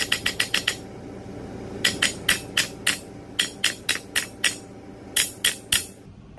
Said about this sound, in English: Now I can take a hammer